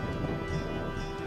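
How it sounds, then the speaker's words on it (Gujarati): A thunderstorm over Arvalli district, a dense, steady wash of rain with a low rumbling undertone, heard alone and fairly faint through the whole brief moment. "અરવલ્લી જિલ્લામાં વાતાવરણમાં પલટો આવતા ગાજવીજ સાથે વરસાદ પડ્યો"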